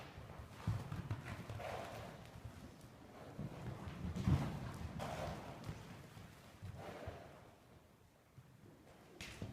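A horse during a riding lesson, hooves clip-clopping in scattered, uneven steps at moderate distance, with light wind noise in the background.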